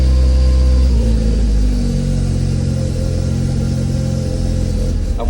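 A car engine runs steadily as it warms up, a loud, continuous low rumble with a slight rise in revs early on and no voices.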